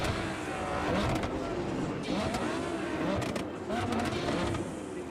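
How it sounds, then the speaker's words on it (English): Car engine revving and changing pitch across gear shifts in the video game Cyberpunk 2077, steady and fairly loud throughout, with game background noise and faint voices mixed in. "That car does not sound good as I'm shifting gears"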